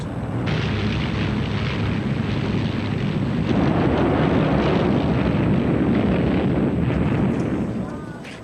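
Luftwaffe aircraft over Malta during a 1942 air raid, a dense continuous roar of engines and blasts rising midway and holding loud before easing off near the end.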